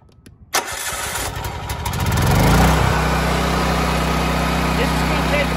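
A Ridgid 6800 watt generator engine cranks and catches after a click, rising over a couple of seconds into a loud, steady running drone that continues to the end.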